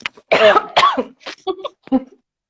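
A woman coughs and clears her throat a few times in quick succession, close and fairly loud, followed by short vocal sounds.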